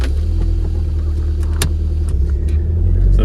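Toyota MR2 Turbo being driven, a loud, close, low engine rumble with steady road drone inside the cabin and a couple of brief clicks, no talk.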